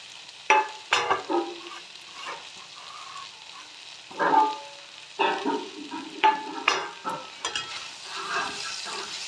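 Oats and vegetables being stirred and fried in a pan for a breakfast dish, with repeated scraping strokes and a soft sizzle coming in uneven bursts, close and fairly quiet, with no talking.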